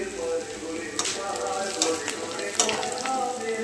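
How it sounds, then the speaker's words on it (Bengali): Shrimp frying with onion, garlic, coriander and chilli, a soft, even sizzle with a few clinks and scrapes of stirring. "আর এখানে চিংড়ি মাছ, পেঁয়াজ, রসুন, ধনে লঙ্কা ফোড়ন দিয়ে ভেজে নিচ্ছি।"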